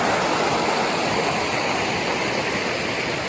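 A creek at the Siouxon area rushes steadily beside a lunch spot, a loud, continuous broadband wash of flowing water heard up close with no other sounds.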